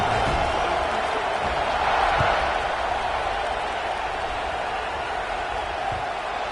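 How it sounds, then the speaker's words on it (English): A stadium crowd at a UCLA college football game keeps up a steady, dense roar at the end of the half, broad and sustained without breaks, with faint voices mixed in. "this crowd is buzzing after that last score"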